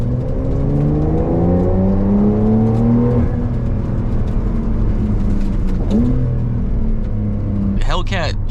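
A 2021 Porsche 911 Carrera 4S engine pulls hard from inside the cabin, its rising note dropping abruptly at quick upshifts around three and six seconds before climbing again, loud and steady under a faint interior whir.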